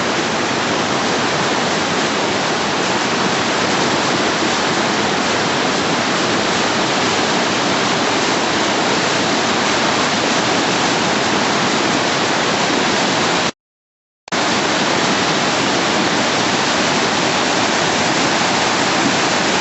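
River water swollen by heavy rain rushes loudly and steadily under a bridge in Betanzos, Galicia, a dense broadband roar broken by one brief gap of silence.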